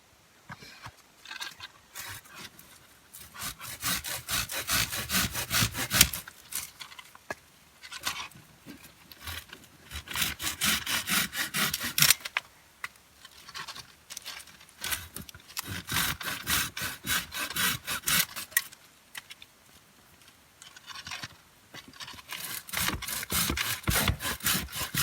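Hand sawing through firewood with a Silky folding saw at a snowy hot-tent camp: repeated rasping back-and-forth strokes in steady bursts, close and fairly loud, with short pauses between runs of cutting.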